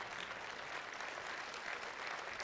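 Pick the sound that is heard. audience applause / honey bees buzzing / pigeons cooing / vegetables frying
audience applause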